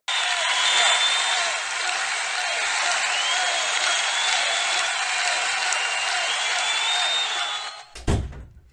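A recorded crowd cheers and applauds in a dense, steady roar for about eight seconds, then cuts off abruptly into a dull thump.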